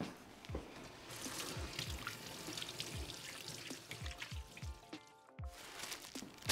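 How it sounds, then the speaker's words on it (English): Hands washed under a running kitchen tap: continuous water flow with splashing bursts and drips, close by, briefly cutting off near the end before resuming. "So I'm just going to wash my hand off quickly."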